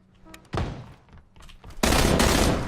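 AK rifle fire in the PUBG shooter game: two loud, dense bursts of rapid gunfire, a short one and then a longer sustained one.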